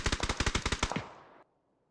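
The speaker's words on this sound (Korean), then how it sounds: "근처에서 들려온 쫄깃한 총성 때문에 더 이상의 전진은 불가능한 상황." A nearby burst of rapid automatic gunfire in PUBG, about a dozen sharp shots in quick succession, loud and close, then trailing off into silence.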